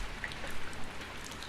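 Steady light rain pattering in the background of the visual novel Higurashi When They Cry Kai, a soft even hiss with scattered drops and no talking.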